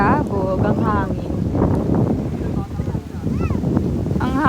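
Strong wind at Bulabog beach on Boracay island during a storm, buffeting the microphone in continuous loud gusts while people talk over it.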